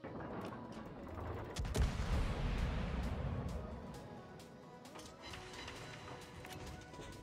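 Naval gunfire from a Tier VII Italian cruiser, the Zara, in World of Warships: one heavy boom followed by a long, deep rumbling roll over continuous battle ambience and small crackling impacts.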